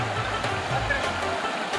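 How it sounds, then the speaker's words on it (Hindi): A river flows through the Darha Koh-e-Sulaiman area with a dense, steady rushing wash of water, close and continuous, with no break in its churning noise. "एता पानी ज्यादा है ए नदी दे विचो ही टाइम"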